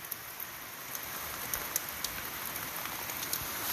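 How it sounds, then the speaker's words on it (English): Heavy rain lashing down outside, a dense steady hiss of drops on surfaces with scattered sharper splats and ticks, heard from indoors with no talk. "I don't know how well you can tell that that's raining, but oh, it's going to get heavy."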